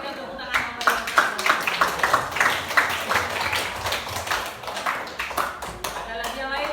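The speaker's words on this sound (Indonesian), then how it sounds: "Mari kita berikan tepuk tangan yang meriah." Applause from a classroom audience: a dense patter of many hands clapping at once, sustained for several seconds with sharp, closely packed claps at a steady loudness.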